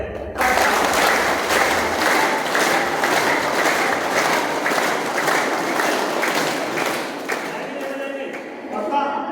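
Schoolgirls in a government girls' intermediate college classroom clap their hands together in a sustained, fairly loud burst of applause with steady rhythmic claps, voices mixed in, fading slightly near the end.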